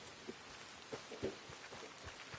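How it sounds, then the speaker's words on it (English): Steady rain falls in a Red Dead Redemption game scene set in Blackwater, a soft continuous patter with a few slightly louder drops, no talking. "Since since I'm in Blackwater, it's been raining too damn much."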